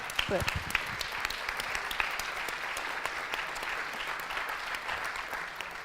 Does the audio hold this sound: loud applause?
yes